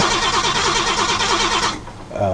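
A car engine cranks over and over without catching on a car showing electrical trouble, a steady rapid churning for nearly two seconds before it cuts off and briefly resumes.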